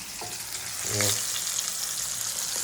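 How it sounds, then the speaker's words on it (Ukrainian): Crucian carp coated in wheat flour sizzles and fries steadily in a pan, a constant crackling hiss close by, with faint clinks over it. "Це вже смажиться рибка на пшеничному борошні."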